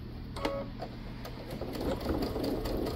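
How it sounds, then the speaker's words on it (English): A sewing machine stitches close along the edge of a bag pocket, a rapid, even mechanical chatter of needle strokes running steadily and close by, with no talking. "So we're just going to stitch really close to the edge"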